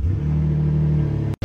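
Engine of a used car bought for $1,300 running with a leaking exhaust flex pipe, a steady close low rumble with a constant idle hum that cuts out briefly near the end before resuming.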